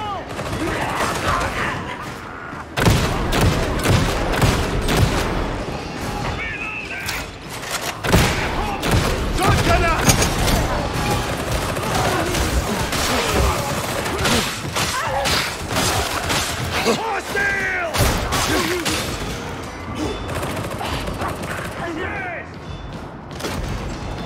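Sustained gunfire and bursts from a Warhammer 40k Darktide game battle, loud and dense for the whole stretch, with repeated volleys, thuds and crashes mixed with game voices.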